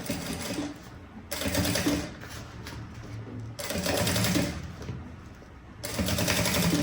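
A sewing machine topstitches a fabric bag in three fast, steady runs of stitching, each stopping abruptly with short quiet pauses between, close and loud.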